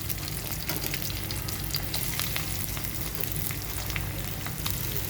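Onion sizzles in hot oil with mustard seeds and cumin for asparagus dal, a continuous crackling fry close up with occasional stirring and spitting pops, no voices.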